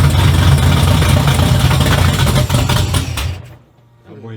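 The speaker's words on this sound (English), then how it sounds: "Let's go ahead and do a cold start." A 1972 Oldsmobile Cutlass with a swapped 6.0 LS V8 and FiTech fuel injection, started cold: a loud, close, rumbling engine roar that cuts out abruptly, followed by a brief voice.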